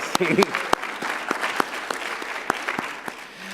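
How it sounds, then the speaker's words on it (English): Applause from a crowd at a college of medicine convocation and awards ceremony, a dense patter of many hands clapping, with occasional sharper claps standing out, fading slightly near the end. "Give yourselves a round of applause"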